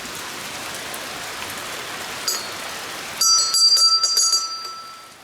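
Rain comes down in a dense, even hiss across a rural outdoor setting, steady for several seconds before clearer drips and a faint ringing bell tone join in near the end.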